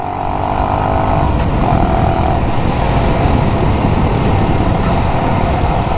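A Honda CT90 motorcycle engine runs steadily and loudly up close, with a continuous revving drone and a brief dip around a quick gear shift.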